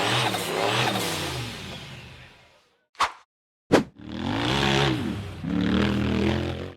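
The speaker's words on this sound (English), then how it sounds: "The black buggy with yellow stripes accelerated up a steep rock face" An off-road buggy engine revs hard on a steep rock climb, loud rising and falling bursts of throttle broken by a short near-silent gap with two sharp knocks before the engine roars again.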